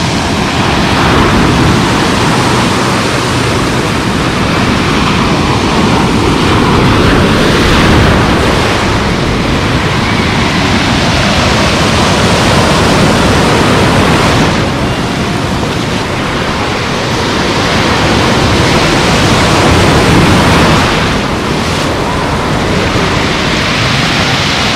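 Sea waves break and wash steadily onto Lazurny beach in Lazarevskoye, a loud continuous surf roar with gentle swells in intensity and no voices.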